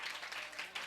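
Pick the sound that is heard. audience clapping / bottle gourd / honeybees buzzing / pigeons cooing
audience clapping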